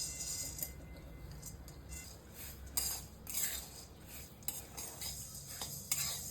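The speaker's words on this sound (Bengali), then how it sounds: "ধুয়ে রাখা মুগের ডালটাকে ভেজে" Washed moong dal dry-roasts in a pan, with a spatula scraping and clinking against the metal in soft, irregular strokes and a faint background sizzle.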